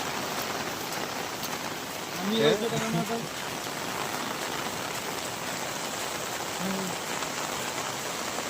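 Heavy rain falls steadily beside a stream during a fishing outing, a dense continuous hiss with a brief splash or thump in the middle and faint muffled voices in the background.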